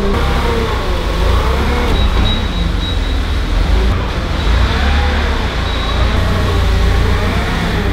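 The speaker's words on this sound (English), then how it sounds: "I absolutely love this forklift, guys, because now we're actually able to put away things out of our way." A forklift hoists two BMW E92 M3 interiors onto pallet racking, its motor giving a loud, steady mechanical drone that runs unbroken from start to finish, with no talking.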